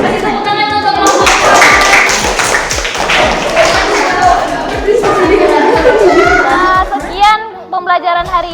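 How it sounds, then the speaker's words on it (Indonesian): A classroom group of students claps for a presenting team, a loud burst of dense hand claps with children's voices and chatter mixed in, fading out near the end. "Tepuk tangan untuk kelompok."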